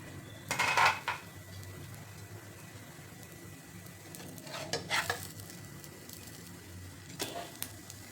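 Fasting-style thalipeeth flatbread roasts in a pan with a soft, steady sizzle. A spatula scrapes and taps against the pan in three brief, louder bursts.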